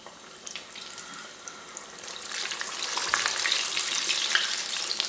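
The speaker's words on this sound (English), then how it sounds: "Now we're just going to go ahead and drop them in our fryer." Breaded pickles hit hot oil in a deep fryer, and a dense, steady sizzle swells and holds loud and close to the end, with no voices.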